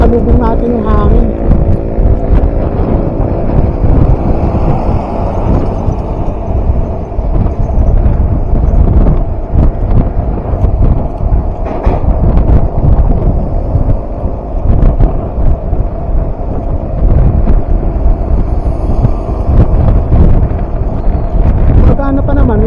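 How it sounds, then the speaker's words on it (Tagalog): Steady, heavy wind buffets an action camera microphone while riding after rain, a loud continuous rumble with faint voices underneath. "yung umulan tapos mahangin, salubong natin yung hangin"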